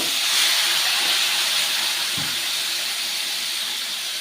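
A splash of water hitting Kashmiri chilli powder in a hot pan, a loud, steady hiss that continues unbroken and fades only slightly.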